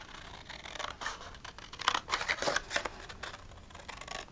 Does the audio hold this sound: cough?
no